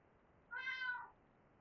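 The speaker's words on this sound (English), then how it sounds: "She's still meowing behind the camera now." Cat meowing once behind the camera, a single drawn-out, fairly clear meow about half a second long against a quiet room.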